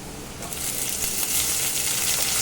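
Loud, steady sizzling of onions frying in a hot pan, with faint scraping as they are stirred.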